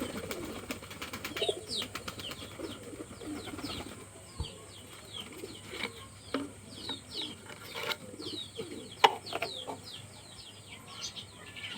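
Domestic deshi pigeons on a house rooftop in rain, soft repeated cooing with scattered calls and wing flaps, fairly faint against a steady background hiss.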